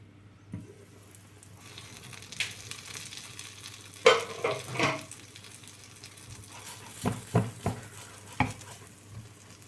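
A Thai stuffed omelette filled with mackerel cooks in a pan, giving a quiet steady sizzle broken by several close scraping knocks of a utensil against the pan.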